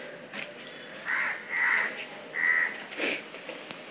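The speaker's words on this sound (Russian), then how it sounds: "Ворона." A crow caws several times at a moderate distance in Arambol, Goa, during the rainy season, harsh repeated calls spaced out over a few seconds against quiet background.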